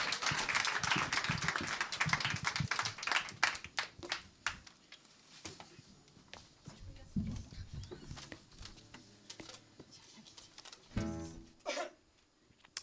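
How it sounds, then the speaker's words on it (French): Audience applause for performers at an intimate concert, a dense patter of many hands clapping loudly at first and then thinning into scattered claps, with voices talking over the tail. "on les applaudit très très fort"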